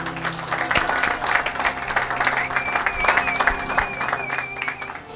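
Sustained applause from a church congregation fills the room, steady and dense, with a few voices rising faintly through the clapping.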